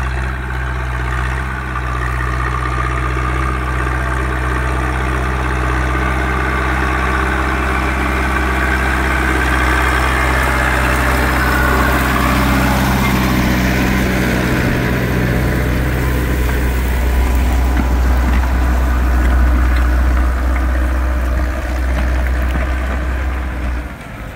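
A Zetor 6245 tractor ploughing an extremely difficult field with a Vogel & Noot plough, its diesel engine droning loud and close with a deep steady rumble that strains and rises slightly under load.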